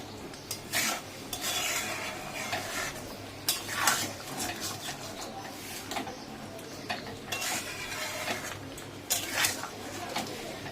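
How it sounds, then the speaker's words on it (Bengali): A spoon stirs chicken biryani in a pot after salt goes in, giving repeated scraping and rasping strokes with light clinks of metal, fairly soft and fairly steady throughout. "নুন দিয়ে নেড়ে নিলাম।"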